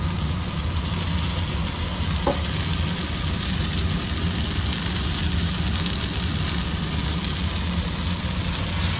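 Moringa greens frying in oil in a pan, a steady close hiss with a brief clink of stirring partway through, no voices.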